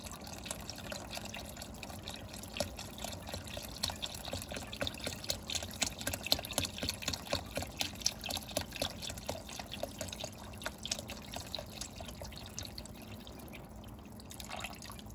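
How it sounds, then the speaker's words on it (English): Water poured into a pot for homemade beef barley vegetable soup, a steady faint splashing and dribbling stream running continuously for the whole stretch, heard alone without talk. "Okay, let's add water."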